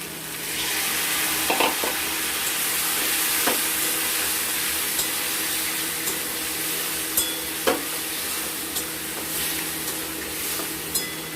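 Bam eel pieces simmering with spices and potato in a pan as the mixture is stirred, a steady sizzle with a few sharp scraping clinks of the spoon, close and alone.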